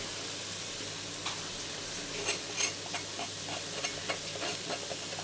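Beef stew with chorizo and garlic is stirred in a pot, a steady sizzle under a run of scraping and clattering utensil strokes that get busier midway, close and without talk.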